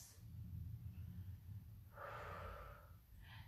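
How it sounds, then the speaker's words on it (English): Deep breathing during a Pilates stretching routine: a long, airy inhale or exhale rising in the middle, with a shorter breath at the end. Low background rumble runs underneath. "Deep breathing."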